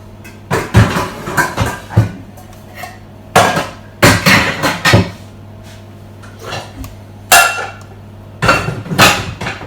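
Metal frying pans clatter and knock in several bursts of banging, close and loud, with quiet gaps between.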